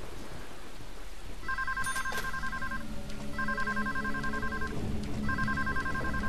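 A telephone rings three times in the video game Deadly Premonition, with evenly spaced electronic trills over steady rain and a low rumble, and no speech.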